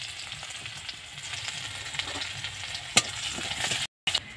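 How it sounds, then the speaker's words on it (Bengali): Crushed garlic frying in hot oil in a pan while cooking Bengali hinche shak, a steady close crackling sizzle with a few sharper pops and a brief dropout near the end. "রসুনটা একটু ভেজে নেব।"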